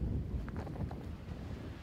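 Steady wind buffets the microphone outdoors at Folly Beach, South Carolina, a low rumbling roar with gusty swells that never lets up.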